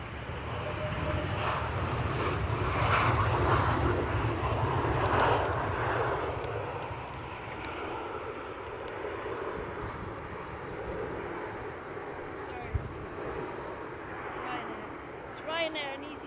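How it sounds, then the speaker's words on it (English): A Gulfstream 650 jet at Edinburgh Airport roars at a distance, its engine noise swelling and then slowly easing over the span while people talk nearby. "Gulfstream 650."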